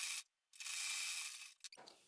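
A sewing machine stitching a buttonhole strip, heard close up as bright mechanical whirring bursts with a short pause, then a longer run and a few quick final stitches.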